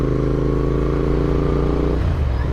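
A Royal Enfield Continental GT 650 twin-cylinder motorcycle idles close by with a deep, steady exhaust burble that drops lower and rougher near the end.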